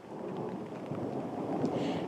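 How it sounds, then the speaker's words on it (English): Thunder rumbling through a severe storm with pouring rain in Davenport, Quad Cities: a steady, broad low roar with rain hiss throughout, continuous and loud, no voices. "you can hear some of that thunder still rumbling around me"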